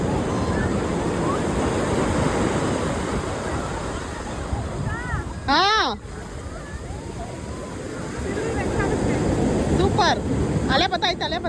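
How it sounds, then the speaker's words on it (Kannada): Sea waves break on the shore in a broad, continuous roar of surf, loud and close, with wind noise on the microphone, while people shout and talk in the middle and near the end. "ಅಲೆ ಬತ್ತೈತೆ"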